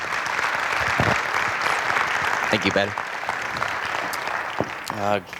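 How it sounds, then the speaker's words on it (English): An audience claps steadily in sustained applause, fairly close, while a voice speaks briefly over it. "So let's have a round of applause for Callan."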